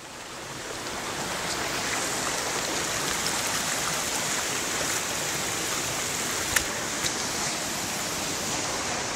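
A waterfall and flowing stream pour in a dense, continuous broadband rush, loud and steady throughout, with no voices.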